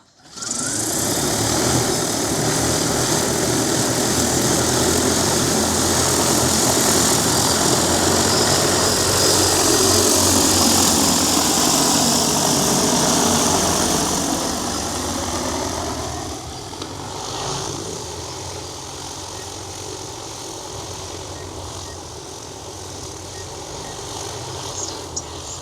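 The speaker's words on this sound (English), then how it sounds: "Aircraft preparing to take off." An agricultural drone spreading hay seed takes off with a loud, close, steady high-pitched propeller buzz and whine that holds for several seconds, then drops in pitch and level as it climbs away.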